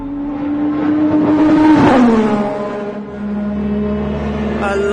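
Ayrton Senna's race car engine revs up to a loud peak, then drops back, and a fresh lower engine note rises from about the midpoint, close and loud, with no one talking.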